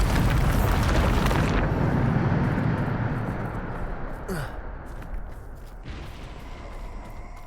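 A Bombarda spell explodes in Hogwarts Legacy: a loud, booming blast with a crackling rush that rumbles on and slowly fades over several seconds, with a few brief swishes and a faint voice near the middle.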